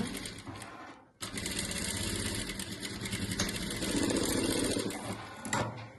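Sewing machine stitching quilt patchwork, a fast continuous mechanical whir with rapid needle rattle, briefly stopping near the start then running steadily and close for several seconds without talk.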